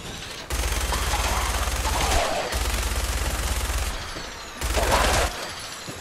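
Sustained automatic gunfire in Fallout 4 during a power armor fight, loud rapid bursts with brief gaps between them, dense and close, no talking.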